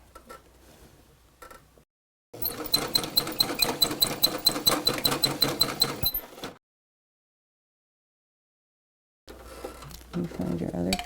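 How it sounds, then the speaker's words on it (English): A sewing machine stitches elastic onto a fabric face mask in a steady, rapid run of mechanical ticks lasting about four seconds, close and loud. Shorter, fainter bursts of machine noise come before it and after a silent pause. "Then you just sew all the way across the other end."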